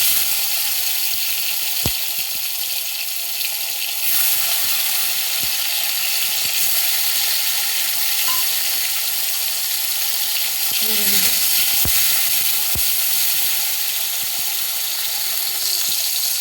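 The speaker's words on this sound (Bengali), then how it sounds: "দিয়ে দিচ্ছি কুচিয়ে রাখা টমেটো" Chopped tomatoes hit a hot pan while cooking a mung dal and eggplant dish, giving a steady, even sizzling hiss throughout, with a few soft clicks and utensil taps scattered over it.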